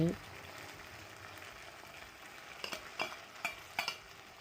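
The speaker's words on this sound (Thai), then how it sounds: "ผัดส่วนผสมทุกอย่างได้เข้ากันดีแล้ว" Egg tofu, chili curry paste and long beans are stir-fried in a pan with a soft continuous sizzle, broken by several sharp scrapes and clinks of a spatula near the end, under faint talk.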